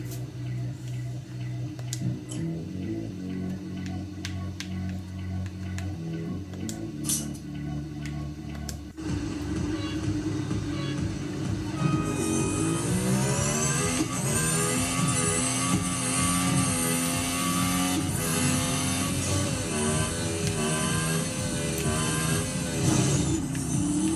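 Racing car engine from the video game Real Racing 3 played with a controller, a steady droning engine that rises sharply into loud, sustained high-pitched revving with shifting pitch partway through, no talking over it.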